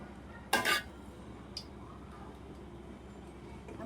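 Chicken egg fried rice being stirred in a pan: one sharp scrape of utensil against metal stands out, followed by a faint tick, over quiet kitchen background.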